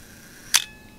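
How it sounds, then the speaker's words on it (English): A manual 35mm SLR film camera with its lens at f1.4 fires its shutter once, a single sharp, close mechanical snap standing alone against near silence. "you can actually hear the kind of a buzz as the shutter runs"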